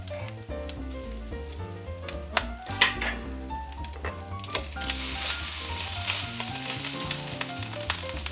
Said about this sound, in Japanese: しっかり炒めると肉の脂が大量に出てくるはずだ